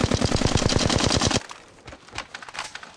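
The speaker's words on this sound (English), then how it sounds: "I'm getting shot at." Rapid automatic gunfire from a weapon in Apex Legends rattles in a fast, evenly spaced burst for over a second, then cuts off, leaving sparse scattered shots and quieter game sounds.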